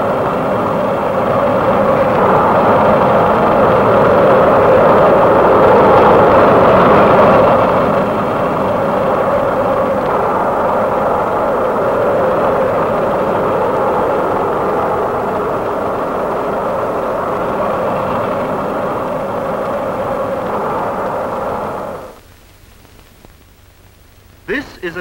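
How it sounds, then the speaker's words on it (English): A V-2 rocket lifts off from its launching table during a 1945 test launch, giving a loud, sustained broadband roar that holds steady for over twenty seconds and then cuts off abruptly into near silence. "the rocket takes off"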